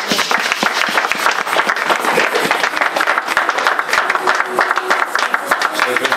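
Many worshippers clapping together in church during an Easter celebration, a loud continuous patter of applause carrying on for several seconds, with some voices audible under it.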